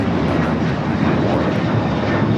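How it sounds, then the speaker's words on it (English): An Alaska Airlines Boeing 737-800 in Tiana's Bayou Adventure livery takes off from Los Angeles LAX, bound for Washington Reagan National, with a steady, loud, broadband jet engine roar that holds throughout without a break. "Flight 6 taking off to Washington Reagan National on the 737-800 Tiana's Bayou Adventure livery"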